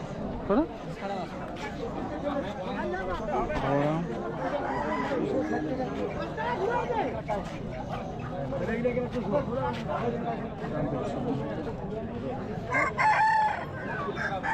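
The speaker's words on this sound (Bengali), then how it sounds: "চলো দেখে নিই আজকে মুরগির বাজারে কী সব মুরগির সম্ভার এসেছে ছোট্ট ছোট মুরগি এখানে বিক্রি হচ্ছে" Chickens and roosters at the poultry stalls of a busy rural weekly market in Bengal, with repeated crowing and clucking rising through a dense, steady crowd of nearby voices and chatter.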